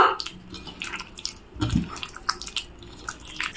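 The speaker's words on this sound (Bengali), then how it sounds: "ভিনেগার বা সাদা সিরকার ভিতরে যে তেঁতুলগুলো ভিজিয়ে রেখেছিলাম এখন হাত দিয়ে এভাবে একটু চটকিয়ে নিব" Bare hands squeeze and mash tamarind soaked in white vinegar for a sweet-sour pickle, giving wet, squelchy squishing and dripping sounds in irregular bursts, close and fairly loud, with no talk.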